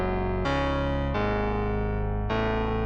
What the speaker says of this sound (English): So find a power synth sound like this.